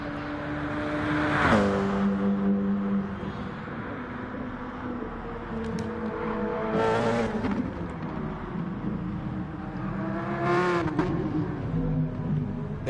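Engines of GT Sport race cars, LMP prototypes, lapping the Lago Maggiore circuit: a continuous whine that rises and falls through several gear shifts, with loud passes swelling around the midpoint and near the end.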